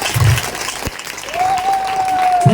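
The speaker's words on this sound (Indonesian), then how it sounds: "Tepuk tangan dulu, tepuk tangan. Lebih kuat." A crowd at a regency government gathering with a farmers' association in Nabire, Papua, breaks into loud, sustained applause. The clapping is dense and continuous, with a brief tonal sound rising partway through.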